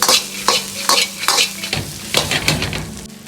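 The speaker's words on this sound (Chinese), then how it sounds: "翻炒均匀。" Shrimp being stir-fried in a wok with cooking wine, sauces and sliced green chilies: loud, close clattering tosses and scraping strokes every half second or so over a strong sizzle, no voices.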